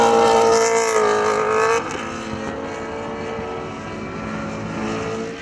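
Superbike motorcycles race on a track at a 2012 national motorcycle road-racing championship round. Loud, sustained, high-revving engine whine shifts in pitch, eases slightly after a couple of seconds and then holds steady.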